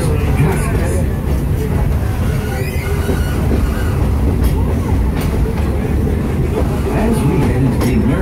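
Magic Kingdom railroad train rolling along, a steady loud rumble with rhythmic clickety-clack of wheels on track and faint crowd babble throughout.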